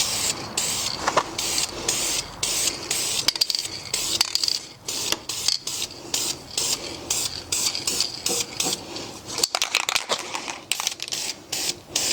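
Aerosol can of spray primer coating a heat exchanger, short hissing bursts with brief gaps between them, close and fairly loud, with no talking.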